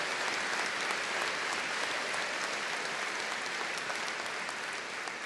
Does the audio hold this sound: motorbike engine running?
no